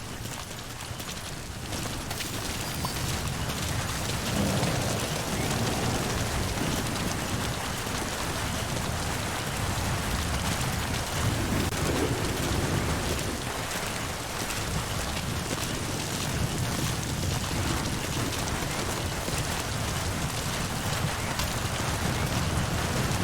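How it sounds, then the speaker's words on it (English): Steady, dense rainfall in the stealth video game Metal Gear Solid V: The Phantom Pain, a loud continuous hiss of rain on surfaces with faint irregular taps, constant throughout with no voices. "Sound of rainfall should help to mask your footsteps."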